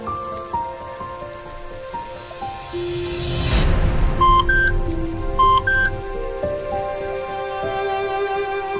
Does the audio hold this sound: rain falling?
yes